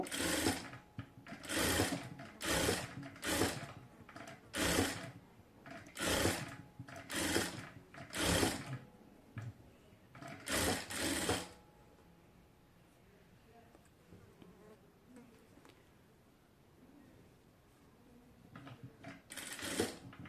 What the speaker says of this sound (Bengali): তো আমি একইভাবে হচ্ছে দুইটা পার্ট হচ্ছে সেলাই করে নেব প্রথমে।